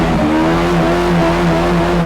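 A kei truck fitted with a Yamaha FJ1200 motorcycle engine and sequential shifter drones steadily with a buzzy, high-revving tone near 13,000 RPM, rising and dipping slightly as gears change, loud and close throughout.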